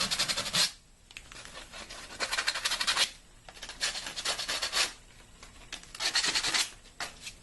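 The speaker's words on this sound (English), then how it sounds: "take my sandpaper again, file those burrs down a bit" Sandpaper rasps over a PVC crowbar prop, filing down burrs in about five quick back-and-forth bursts of scratchy rubbing with short pauses between, close and fairly quiet.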